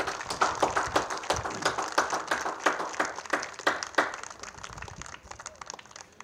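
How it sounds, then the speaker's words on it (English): Audience applause at a high school baseball hall of fame ceremony: a moderately faint round of scattered hand claps in a hall, lasting several seconds before tapering off. "Please give Mr. Pewitt a loud round of applause"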